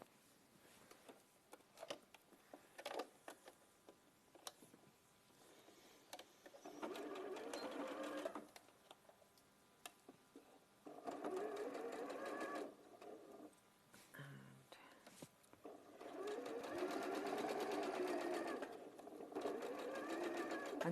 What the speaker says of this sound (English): so I'm just going to stitch that armhole